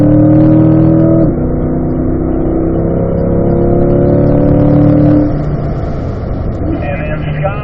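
A race car drives around a track, its engine note shifting as the driver lifts off the throttle and squeezes back on through a corner, the loud engine tones running under a coach's spoken instructions.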